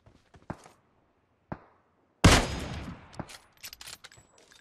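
Gunfire in the battle royale game PUBG: a few sharp single shots, then a loud burst of overlapping shots and a dense volley that rings out, followed by scattered quieter reports.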